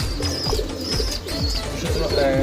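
Pigeons on a farm of about two hundred birds coo close by, their low, throaty calls repeating and overlapping in a steady chorus with no talk.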